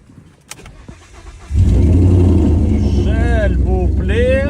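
A Mercedes hybrid car engine cranks and catches, settling into a loud steady idle, with a person talking over the running motor.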